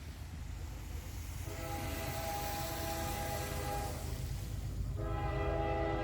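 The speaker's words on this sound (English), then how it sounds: "and we got a train coming" A train rolls past in Berea, Ohio in light rain, its steady rumble filling the clip while a loud multi-tone horn sounds twice, the second blast swelling as the train draws near.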